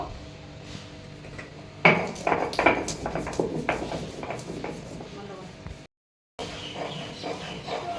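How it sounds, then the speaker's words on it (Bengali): Garam masala is ground by hand, producing a run of scraping, rubbing strokes in irregular rhythm that start abruptly and continue for several seconds before a brief silent gap, close and moderately loud. "তারপরে গরম মশলাটা বেটে নেব"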